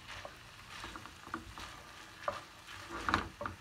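Onions and minced meat frying in a pan for a Sarıyer börek filling, a quiet, patchy sizzle broken by a few soft stirring scrapes and clicks.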